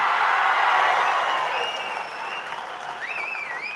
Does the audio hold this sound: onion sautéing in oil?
no